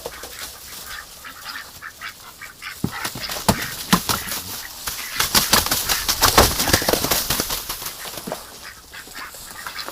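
A duck with a slight limp beats its wings in short, rapid bursts, close and fairly loud, with a busier flurry of flapping in the middle.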